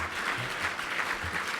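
Steady audience applause after David Suzuki's talk at a sustainability summit, a continuous even patter of many hands heard from a distance.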